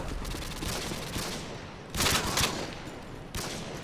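Dense, loud bursts of automatic gunfire from Call of Duty Modern Warfare 2, a rapid continuous rattle with harsher surges near the middle and the end.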